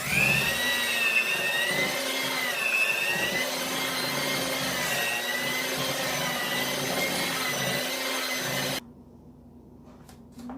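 Electric hand mixer whirring steadily through white almond cake batter in a bowl, a continuous buzzing drone that runs close and loud before cutting off near the end, leaving quiet clatter.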